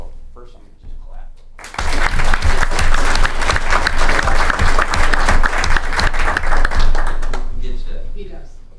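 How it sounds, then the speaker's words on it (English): Sustained applause and clapping from a city council meeting audience honoring the local Lions Club on its 72nd anniversary, starting abruptly after a brief murmur and holding loud and dense for about six seconds before thinning out. "So first, I'm going to just clap."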